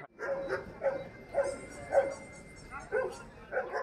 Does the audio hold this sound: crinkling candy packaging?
no